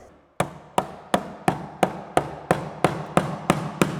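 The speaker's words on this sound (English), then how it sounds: "we hammer it back in until it's not gonna move anymore" An EQT standard low-pressure fuel pump is driven into its seat with about ten sharp, evenly spaced hammer blows, each a crisp close impact with a short ringing decay.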